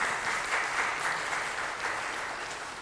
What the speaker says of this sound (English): Let's thank Sydney with a round of applause.